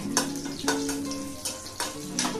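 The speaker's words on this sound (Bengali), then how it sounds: "ভেজে নিচ্ছি" Dried red chilli and kalonji (nigella) seeds frying in hot mustard oil in a home kitchen pan, a steady close sizzle with a few soft stirring clicks and spatters throughout, no talking.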